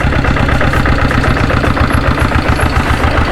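A Diesel Bullet 7.5HP motorcycle engine idling in neutral, close and loud, with a steady, rapid low thumping chug that stays constant throughout.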